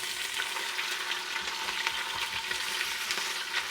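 Cabbage with tomato paste is stirred in a hot pan, giving a dense, close frying crackle and sizzle with soft rhythmic scraping strokes throughout.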